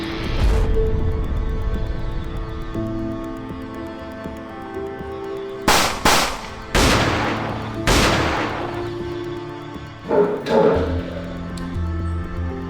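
Gunfire in a staged active shooter scenario: four or five loud, sharp bangs in an irregular sequence, some spaced about a second apart, each with a short echoing tail over a low background murmur.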